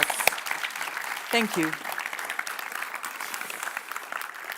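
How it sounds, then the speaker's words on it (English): An audience applauds after speeches at an academic-year opening ceremony, a sustained wash of many hands clapping in a hall, with a brief spoken thanks over the top. "Give them an applause."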